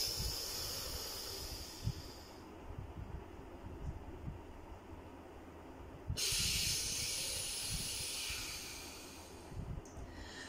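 Deep breathing through one nostril while the other is held shut with a finger, shown as a cold remedy; a steady close airy hiss of breath with no talk, swelling louder in its second half.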